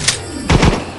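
A weapon fires in the anime-style shooter game Project Silverwing, giving a short blast followed by two heavy, booming thuds in quick succession, loud and close.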